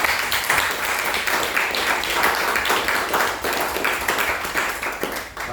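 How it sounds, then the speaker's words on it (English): An audience at a live chat session applauds steadily, many hands clapping densely and continuously at a fairly loud, even level with no talk over it. "So I propose to give them a big round of applause."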